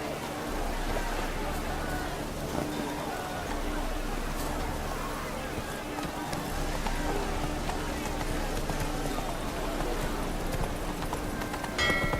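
Roach the horse gallops in The Witcher 3, a steady rapid clip-clop of hooves running continuously at close range over a constant low rumble of game ambience.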